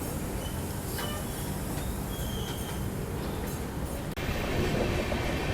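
The Udyan Express, a Bengaluru to Mumbai passenger train, rolls along the tracks with a constant heavy rumble and brief faint wheel squeals, heard from nearby without talk.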